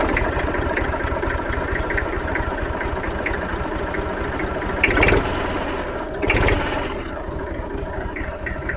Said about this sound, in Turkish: Bir traktörü çalıştırabilir miyiz? Tabii ki. Sesini izleyiciler de duysun.